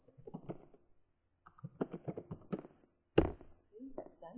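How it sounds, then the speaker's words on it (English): Keys clatter on a computer keyboard as a web address is typed, a quiet run of quick taps that stops and starts again, with one sharper knock near the end. "in the link text box, I'm going to type in the URL"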